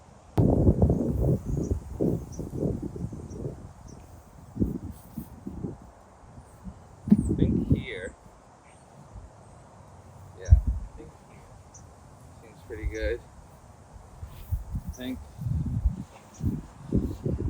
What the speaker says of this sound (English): it's just too windy outside